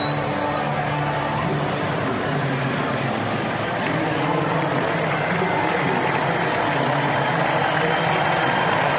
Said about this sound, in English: They're cheering the Marines because this is America.